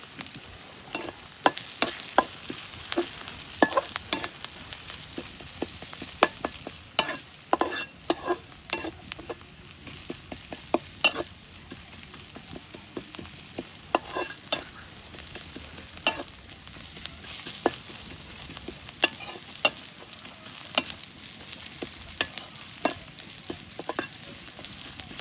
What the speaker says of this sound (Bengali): একটু পেস্টটা ভাজা ভাজা হইল।